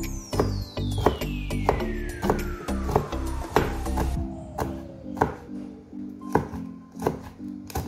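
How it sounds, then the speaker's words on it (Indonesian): A knife chops tofu into pieces on a board with a steady, even rhythm of sharp, close taps, while a falling whistle-like tone sweeps down underneath. No voices are heard. "Pertama kita potong-potong dulu tahunya."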